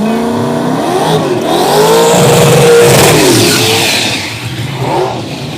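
A Mazda RX-7 rotary engine revs hard during a burnout at Xtreme Raceway Park, loud and close, its pitch climbing and falling in a wavering sweep before easing off.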